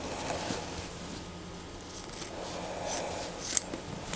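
Scissors trim the fabric seams of a sewn summer jumpsuit made from a Simplicity 9541 pattern, giving a few faint, scattered snips and clicks over quiet room tone.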